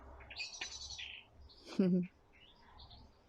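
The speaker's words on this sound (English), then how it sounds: "We've got blackbirds nesting." Blackbirds call in an allotment, with several bright chirps and whistles near the start and a louder low note midway, over soft outdoor background.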